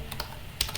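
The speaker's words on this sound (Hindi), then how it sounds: "सिंपल मैंने ये टाइप कर दिया।" Keys clatter on a computer keyboard in a few quick separate taps, with one sharper press near the end, recorded close and fairly clear.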